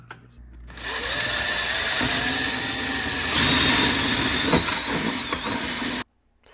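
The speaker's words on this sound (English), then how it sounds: "So we're going to drill a hole through here" A power drill runs steadily for several seconds, its motor whining with a grinding, vibrating edge as it bores through a golf cart's metal frame, then cuts off abruptly.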